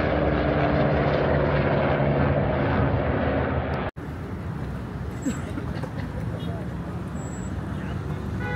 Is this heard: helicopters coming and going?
yes